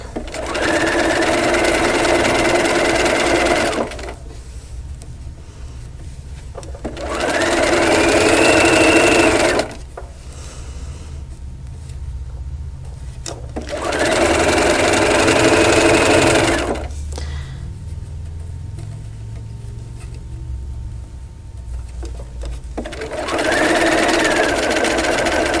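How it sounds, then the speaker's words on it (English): A sewing machine stitches curved Double Wedding Ring quilt pieces with a slit template, running in four loud, steady bursts of several seconds each, separated by short quiet pauses. "And I'm just going to keep sewing around to the slit."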